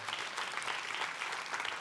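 A church congregation gives God a loud round of applause, a dense, even patter of clapping hands sustained for a couple of seconds at moderate distance.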